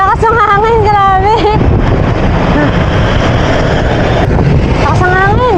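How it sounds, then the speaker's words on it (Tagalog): Strong wind roars and buffets a microphone during a bike ride, a loud continuous rumble, with a person talking over it at the start and end. "Ang lakas ng hangin."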